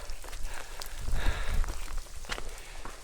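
Rain falls steadily on the Omine Okugake mountain trail in Japan amid wind, a dense close hiss and patter that swells and eases, with no speech.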